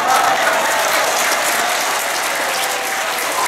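Loud, steady applause from a mosque audience during a sermon, a dense wash of clapping hands that holds evenly throughout without any voices standing out.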